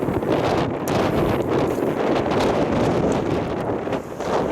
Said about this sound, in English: all of the things are facing that way because the wind is coming very strong